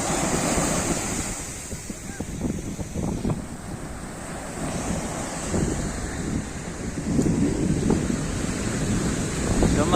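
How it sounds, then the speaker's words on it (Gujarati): Sea waves surge and wash ashore continuously at Chowpatty beach in Porbandar, with wind buffeting the microphone and faint voices in the background. "આ મોજાની લડકીઓ જોવો"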